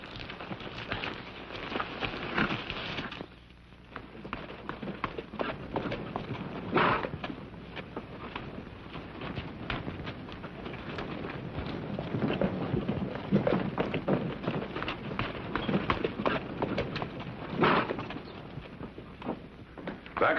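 Horses' hooves clatter in a dense, irregular clip-clop for the whole stretch, loud and close, in a Western setting with no one speaking.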